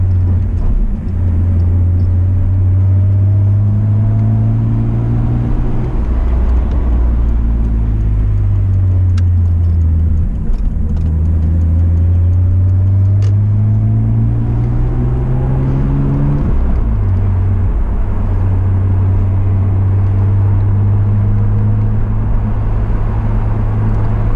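Cabin view from a lowered Mitsubishi Eclipse on the road: a loud continuous engine drone whose pitch climbs and falls through repeated gear changes, with low road rumble throughout.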